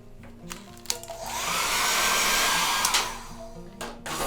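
A hair dryer blows on a wet watercolor painting of a red Santa hat, its steady whooshing roar rising after a few soft clicks and handling sounds, holding for about two seconds, then switching off.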